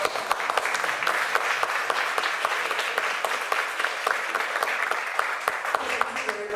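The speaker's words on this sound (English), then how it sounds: "Please give a big round of applause to Leonor." A conference audience gives a speaker a sustained round of applause, dense crisp clapping with individual sharp claps standing out, steady throughout at moderate distance.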